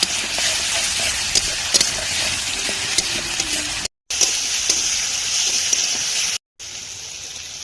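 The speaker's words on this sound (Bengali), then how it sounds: "এখন দিয়ে দিচ্ছি আদা রসুনের পেস্ট আর সাথে কাঁচা লঙ্কা" Ginger-garlic paste and green chillies hit hot oil with chopped onion in a pan for Dhakai chicken, a loud, close, continuous sizzle with occasional stirring scrapes, briefly cut twice.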